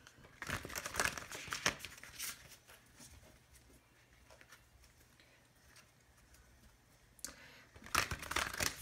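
Bursts of rapid papery riffling as tarot cards are shuffled, loud at the start and again near the end, with quieter soft handling between.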